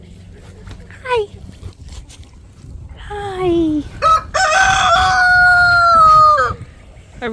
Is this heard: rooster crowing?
yes